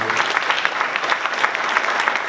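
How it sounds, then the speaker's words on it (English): Interview audience claps in a dense, steady round of applause, loud and close, lasting the whole short stretch. "you can make a round of applause if you want to"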